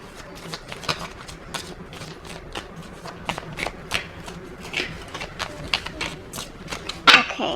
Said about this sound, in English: I'm going to shuffle them first